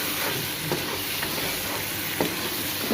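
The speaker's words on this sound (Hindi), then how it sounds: "तकरीबन 2 से 3 मिनट जो है ना इनको मैं भूनूंगी।" Chicken gizzards and necks frying in a pan, a continuous loud sizzle and hiss with a few faint stirring scrapes, no voices.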